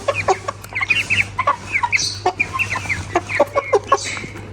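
A fighting rooster of a knockout game breed in Namangan clucks in quick repeated bursts, close and clear, with short pauses between the clucking phrases.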